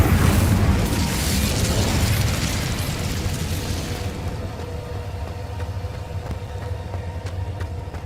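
Incendio fire spell cast in the video game Hogwarts Legacy, a loud whooshing burst of flame that roars for several seconds before dying into a softer crackling rumble with faint background tones.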